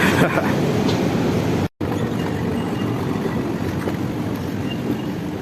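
Continuous KTM Komuter train noise at the KL Sentral station platform, a broad steady rumble and hiss with a brief dropout, no clear talk.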